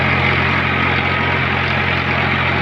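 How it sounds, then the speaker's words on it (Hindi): A Farmtrac 60 EPI T20 tractor engine runs steadily nearby, a constant loud diesel drone with a low hum and no break or talk. "आपको ट्रैक्टर की आवाज़ कैसी लगी ये भी ज़रूर बता देना।"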